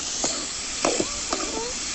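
Tomatoes frying in a pan for a curry leaf chutney, a steady soft sizzle with a few faint stirring scrapes, close and alone.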